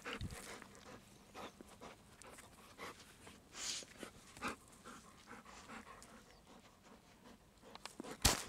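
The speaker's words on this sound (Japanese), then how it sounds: "吠えてもいいよ、ここは吠えてもいい、" Golden retriever on a spring walk along a wooded irrigation canal, panting and snuffling at close range with a few sharp bark-like bursts and pawing patter amid wind, no talk.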